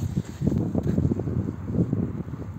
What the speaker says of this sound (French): C'est le vent, ok.